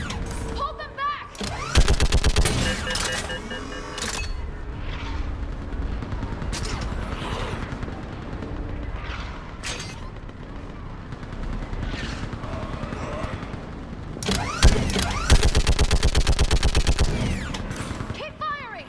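Sustained bursts of automatic weapon fire from Mass Effect 3 on Thessia rattle loudly near the start and again toward the end, with scattered shots and battle noise between and voices calling out.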